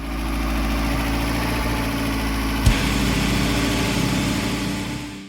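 A rebuilt car engine idles steadily after starting, giving a loud, even, low hum close by with one brief knock midway and no voices.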